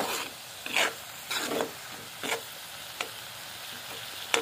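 Takla wild leafy vegetable, cooked Malvani style with dal in a thick kadhai, is stirred in short scraping strokes over a soft steady sizzle. The strokes are close and spaced a second or so apart, with no voices.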